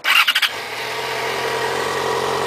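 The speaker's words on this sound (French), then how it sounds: "Mettre le moteur en route." A motorcycle engine cranks with a few quick starter pulses, then catches and settles into a steady, close idle running alone.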